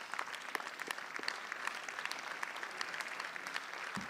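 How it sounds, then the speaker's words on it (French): Applause in the French parliament comes as continuous, distant-sounding clapping from a large crowd, quiet and even, with a few louder claps standing out. "Et on peut les applaudir"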